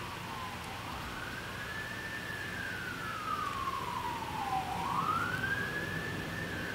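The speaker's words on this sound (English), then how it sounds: "We love the police sirens going on behind me." Police siren wailing in the background of the Hitman 3 game, a single rising and falling tone sweeping slowly up and down, faint and distant over a steady low ambient hum.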